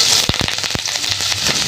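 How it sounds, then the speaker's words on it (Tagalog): Onions sautéing in a pan, sharp close pops and crackles over a continuous sizzle, several loud spits in quick succession at the start, then smaller crackles, loud and near with no talk. "dyan ko na nga rin iluluto ang igigisa ang ating sibuyas"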